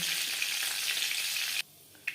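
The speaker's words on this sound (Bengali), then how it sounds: "পনেরো কুড়ি সেকেন্ড পাঁচফোড়ন ভেজে নেওয়ার পর" Panch phoron spices fry in hot oil for a shell fish curry, giving a loud, steady sizzle that cuts off abruptly near the end, leaving a brief hush before a short final burst of crackle.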